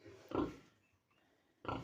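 Two short, low pig grunts sound up close, one near the start and one at the end, with quiet in between.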